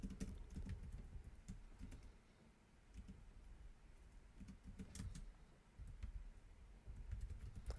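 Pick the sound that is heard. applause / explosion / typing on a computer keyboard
typing on a computer keyboard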